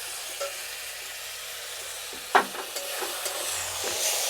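Chili sauce is stirred into flattened rice frying in a pan for a breakfast dish, producing a steady low sizzle broken by a sharp spoon clink and a few light scraping strokes.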